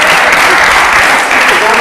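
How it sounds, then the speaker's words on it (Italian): Loud, dense applause from a crowd at an Italian football press event, sustained clapping filling the whole moment with voices mixed in. "Dai, facciamo un applauso ragazzi,"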